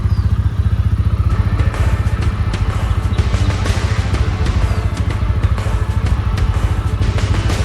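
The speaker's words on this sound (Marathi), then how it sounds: "थोडा वेळ गाडीला कोल्ड स्टार्ट करूया आणि मग बघूया." A motorcycle engine cold-starting, heard as a loud, steady, close rumbling idle with rapid rhythmic pulsing and some mechanical clatter throughout.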